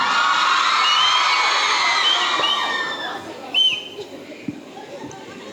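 A college crowd at a school's cultural fest cheers, shouts and whoops loudly and continuously, with scattered whistles, then thins toward the end with a few sharp yells.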